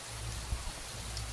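Steady rainfall in the video game Beyond: Two Souls, a soft continuous hiss of drops over a low rumbling bed, with one brief low thump partway through and no talking.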